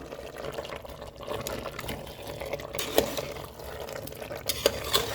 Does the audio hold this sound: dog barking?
no